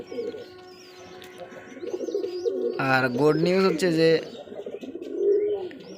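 Pigeons, kept birds, one with a burst crop, coo in a short rising-and-falling burst midway through, close by, with someone speaking over them before and after.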